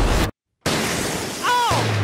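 A sniper rifle fires into a large water-filled tank, giving a sharp, loud burst, then a brief silence, then a roaring splash and impact surge.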